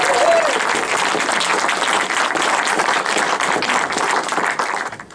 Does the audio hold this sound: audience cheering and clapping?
yes